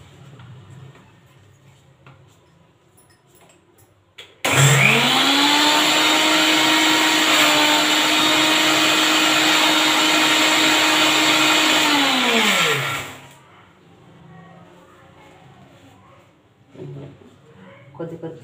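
Mixer grinder grinding henna leaves with a little tamarind juice, a loud steady motor whine starting abruptly, holding for about eight seconds, then winding down, with quiet room noise before and after.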